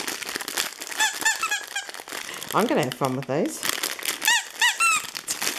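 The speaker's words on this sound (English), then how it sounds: "Squeak it." A squeaky pet toy meant for a golden retriever and a Papillon is squeezed in short bursts of high squeaks, mixed with the crinkling of packaging while someone talks.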